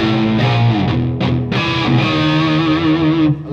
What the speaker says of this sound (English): So I've got the TC adding in a kind of lower octave to make it really.